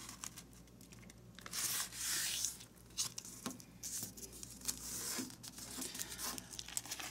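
Origami paper being folded in half gives soft crinkling and rustling, with a longer sliding crease sound and a few sharper paper scrapes, close and quiet with no talking.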